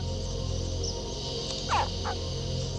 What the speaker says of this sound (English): Mother Croc hears the muffled squawking of her hatching babies,